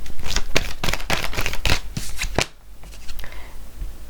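Tarot cards are shuffled in quick, close crisp riffles and flutters during a reading, tapering into softer handling near the end, while someone speaks quietly.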